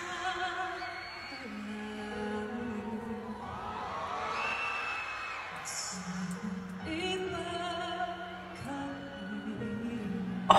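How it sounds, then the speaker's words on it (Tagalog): A concert crowd screams and cheers through a live pop ballad performance, a dense continuous roar of shrieks and whoops layered over a sustained sung melody and backing music, loud and steady throughout. "Grabe yung sigawan."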